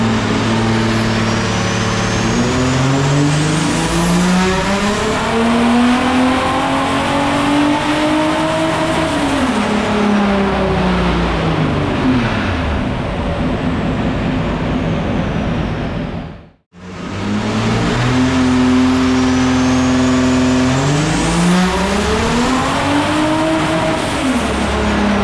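A pro drift car at a drifting event revs hard in long rising and falling engine sweeps with squealing tires. It stays loud and close for the whole stretch, cut by one abrupt brief gap.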